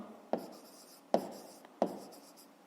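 Pen strokes writing a fifth-grade math answer on paper: three sharp taps spaced under a second apart, each followed by a short scratchy drag, close and clear with no voices.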